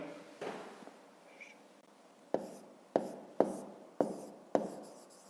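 Pen strokes on paper while jotting down country names for a fifth-grade maths exercise, a soft scratchy rustle followed by five sharp, evenly spaced taps or strokes, close and quiet with no talking.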